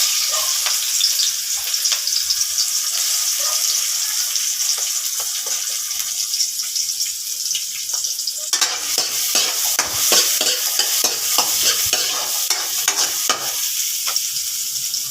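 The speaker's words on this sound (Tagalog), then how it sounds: "Gisa na tayo." Onions sautéing in a little oil in a pan for a seafood kare-kare, a steady close sizzle with stirring and scraping that grows busier and crackly partway through, no talking.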